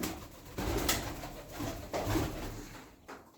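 Domestic pigeons cooing softly in a few repeated low phrases, close by, with light background rustle and no talking.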